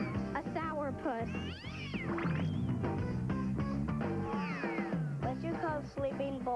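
A cat meows repeatedly in a rapid run of sliding, wavering cries, some drawn out like caterwauls, loud and close with steady sound underneath.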